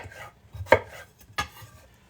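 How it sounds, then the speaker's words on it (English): Food is chopped with a knife on a board, two sharp distinct chops close up, separated by a short pause, with quiet kitchen background and no talking. "I'm going to just go ahead and start chopping it, throw it into the water as it goes."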